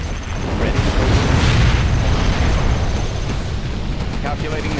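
Cruise missile explosions in the video game Command & Conquer Generals come through as a dense, continuous rumbling roar of blasts, loud and sustained, with game voices briefly present.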